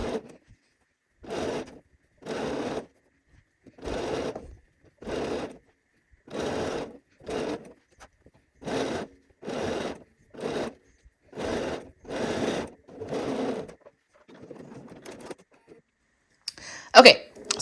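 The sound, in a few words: sewing machine sewing a dress sleeve seam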